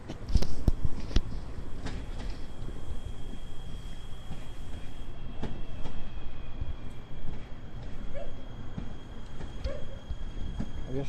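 A train passes through Łowicz Główny station in Poland, a continuous rumbling roll punctuated by sharp metallic clanks, with a thin high squeal running over it, loud and near.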